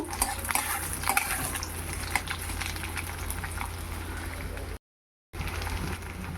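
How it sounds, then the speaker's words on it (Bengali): Carrots sizzle gently in hot oil with onion and dried chilli in a pan, a soft steady frying hiss with occasional light utensil clicks, with a brief dropout. "এবার বসিয়ে দিলাম গাজর এবার গাজর ভেজে নেব"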